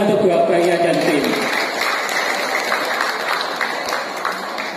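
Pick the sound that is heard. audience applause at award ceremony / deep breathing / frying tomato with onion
audience applause at award ceremony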